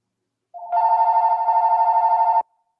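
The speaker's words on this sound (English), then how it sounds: "I'm getting a phone call." A telephone rings with an incoming call, one steady electronic ring tone held for about two seconds, clear and alone in a quiet room.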